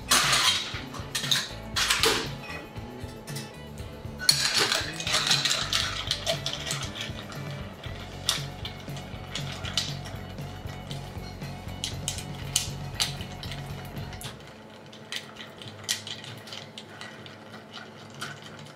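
Cognac cocktail with chocolate bitters stirred down over ice in a mixing glass, a busy rattling clink of ice and bar spoon, close and continuous for most of the stretch before stopping abruptly.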